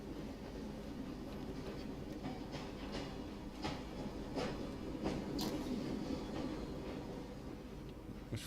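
Continuous heavy rumble of a Victorian train in Assassin's Creed Syndicate, with periodic metallic clicks and wheel clatter swelling slightly midway, close and steady throughout.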